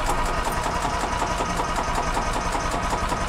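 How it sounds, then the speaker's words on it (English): A gas 2005 Yamaha G22 golf cart engine runs after starting, a steady, loud, close mechanical chugging with a fast, even pulse and no voices. "We're gonna start it with no choke."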